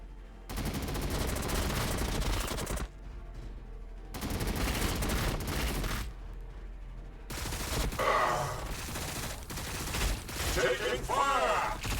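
Dense bursts of automatic gunfire and explosions from the Warhammer 40,000 BattleSector game come in loud rapid volleys separated by brief lulls, with a voiced game line heard over the battle.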